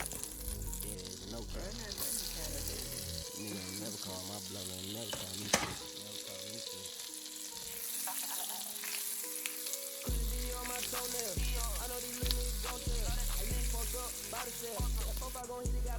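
Garlic sizzling in melted fat over medium-high heat while shrimp quesadillas are prepared, a steady crackling fry with stirring clinks and a soft musical bed underneath, continuous for the whole stretch.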